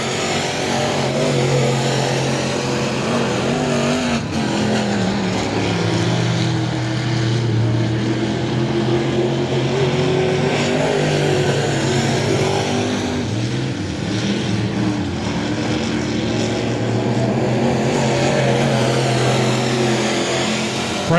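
Late model dirt track race cars roar around a speedway at night, a dense, continuous engine drone with rising and falling pitch as cars pass, loud and unbroken throughout.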